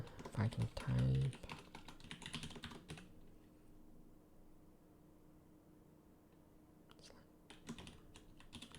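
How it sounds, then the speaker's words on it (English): Quiet typing on a computer keyboard, heard as soft irregular clicks in short clusters with a brief louder noise near the start and long near-silent stretches between. "if I can type"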